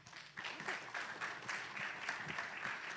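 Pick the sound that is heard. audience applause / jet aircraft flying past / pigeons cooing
audience applause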